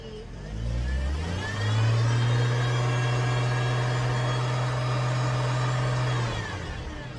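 An original Chevrolet Trailblazer engine, under troubleshooting, revved at full throttle to about 2,500 RPM: a loud, close engine climbs quickly, holds a steady droning pitch for several seconds, then drops back off near the end.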